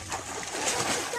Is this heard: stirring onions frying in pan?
no